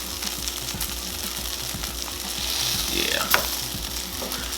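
Chicken wings sizzling on a Chefman indoor grill, a steady close frying crackle with a faint rhythmic hum underneath and a brief clink near the end, no voices.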